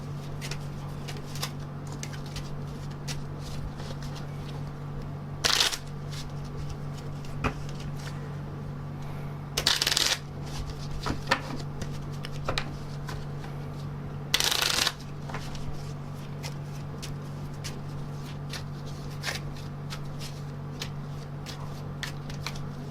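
Tarot cards are riffled and shuffled in several short bursts, with soft handling clicks between them over a steady low hum.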